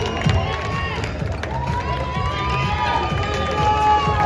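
An audience at a bodybuilding award ceremony applauds and cheers, a dense, loud, continuous wash of clapping and crowd noise with no pauses.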